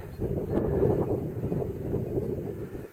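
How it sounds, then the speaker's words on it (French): A cool breeze blowing across a snowy mountain trail, a steady low rushing buffet close to the microphone that swells and eases over a few seconds with no other sounds. "Un petit vent frais qui souffle."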